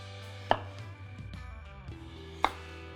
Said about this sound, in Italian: posso tagliarle a metà